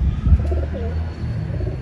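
Pigeons coo softly and steadily nearby over a low background rumble, with a few faint chirps.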